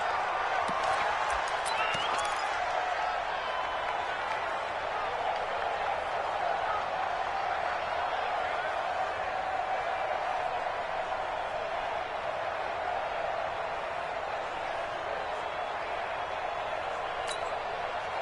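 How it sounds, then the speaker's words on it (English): Crowd noise fills a Madden 20 football stadium as a big third down approaches, a steady broad roar of cheering that holds for the whole stretch, with brief clapping-like bursts near the start. "the crowd getting into it as we come up on a big 3rd down"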